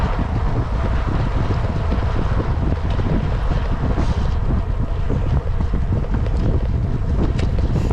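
Strong wind roars over the microphone of a cyclist riding at about 24 to 25 miles an hour. A loud, constant buffeting rumble fills the whole stretch with no talking.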